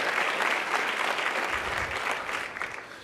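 Sustained applause from a luncheon crowd for Newark Mayor Cory Booker, thick continuous clapping that stays loud throughout and eases slightly toward the end.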